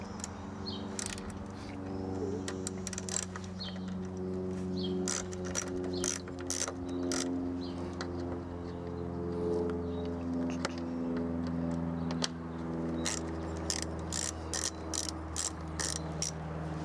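T20 Torx screws are backed out of a car's mass airflow sensor with a ratcheting driver, giving rapid close clicking bursts in irregular runs over a steady low hum.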